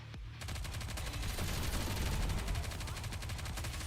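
Rapid automatic gunfire in the Nikke: Goddess of Victory video game, a dense, loud stream of shots starting after a brief pause and continuing steadily to the end.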